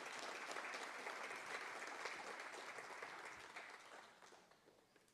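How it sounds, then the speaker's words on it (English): Audience applause welcoming Dr. Khadija Khan to the podium at a regional health authority research day, a steady sustained clapping from a sizeable crowd that gradually thins and fades toward the end. "Can we have a hearty round of applause as we welcome Dr."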